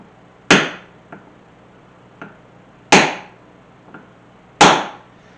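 A hammer strikes a steel rivet setter seated on a rivet in three sharp, close, ringing blows, each followed by a lighter tap, spaced about two seconds apart with no talk.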